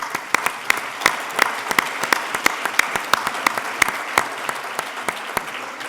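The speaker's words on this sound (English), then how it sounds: "Now we can all applaud." Audience applause at a Los Angeles Police Reserve Foundation gala, a steady crowd clapping with dense, sharp hand claps sustained throughout, fairly close and loud, with no voices over it.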